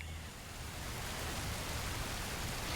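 A steady, broad rushing roar of falling water, continuous and even like a waterfall heard from nearby.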